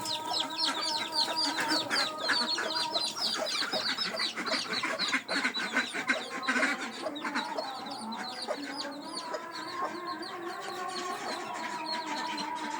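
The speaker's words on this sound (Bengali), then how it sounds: "ওই দেখেন আমার একটা মুরগি, ওটা বাচ্চা দিছে 5টা বাচ্চা হয়েছে।" A hen with five young chicks clucks steadily at a rural home, with thin high chick peeps scattered throughout the low clucking, moderately close, over continuous outdoor background.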